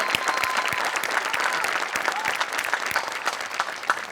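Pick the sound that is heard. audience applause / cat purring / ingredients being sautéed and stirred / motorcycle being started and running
audience applause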